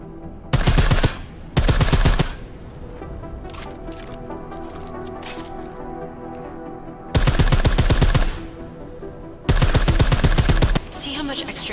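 Silenced gunfire in Deus Ex: Mankind Divided: three short bursts of rapid suppressed shots separated by quieter gaps holding scattered clicks and game ambience.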